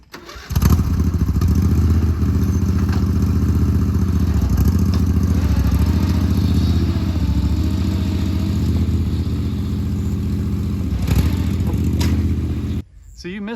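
A John Deere lawn tractor engine drones steadily and close by as it pulls a trailer, with a low, even hum throughout that cuts off near the end.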